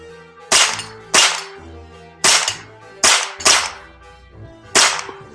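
Six loud, sharp gunshots crack out at uneven intervals as guns, including 12-gauge, .30-30 and .22 Magnum, fire close by at balloons, cans and light-up targets outdoors, each with a short decaying tail.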